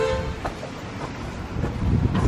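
Car horns sound from traffic on a street below, a short honk near the start among steady outdoor rumble and passing-vehicle noise, moderately distant.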